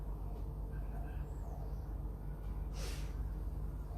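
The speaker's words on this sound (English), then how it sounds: "Sorry about the sniffling." Close, wet nasal sniffling from someone with a cold during a yoga class, a short breathy burst standing out over steady low room noise.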